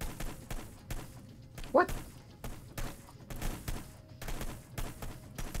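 Gunfire from the video game Hitman: Blood Money, a scatter of short shots and thumps spread through the clip, with one sharp burst standing out; people talk over it.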